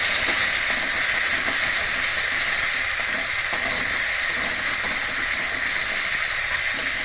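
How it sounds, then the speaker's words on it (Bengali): Ginger, mustard, chili and turmeric paste dropped into hot oil for a vegetarian pointed gourd dish, a loud, steady, close sizzle and hiss that runs unbroken throughout, alone without speech. "আদা বাটা, সর্ষে বাটা, লঙ্কা বাটা, হলুদ মিশিয়ে মশলা গরম তেলে ছেড়ে দিলাম"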